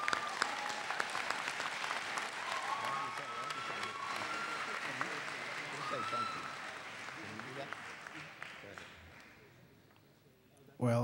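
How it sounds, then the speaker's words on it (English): Warm crowd applause at a 2013 Berkeley City College graduation ceremony, many hands clapping with murmuring voices mixed in, holding steady before tapering off toward the end. "thank you for your round of applause"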